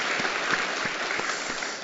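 A church congregation at a Sunday morning worship service applauds in thanks, a steady, moderately distant wash of many handclaps with no speech over it.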